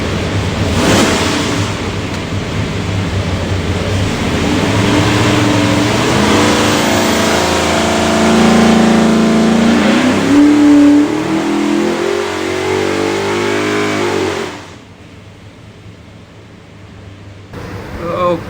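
A 716 HP all-aluminum 572ci Hemi engine with Holley Terminator X fuel management runs on a dyno for a '68 Charger, a loud sustained roar that climbs steadily in pitch through the pull, then drops away abruptly to a quieter idle.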